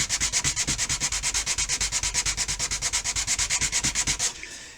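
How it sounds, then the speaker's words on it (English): Quick, steady back-and-forth sanding strokes along the root edge of a balsa-style model rocket fin for the Estes Magician, about thirty close, even rasping passes that stop near the end. "So now we're going to go ahead and sand the root edge first, just like you normally would."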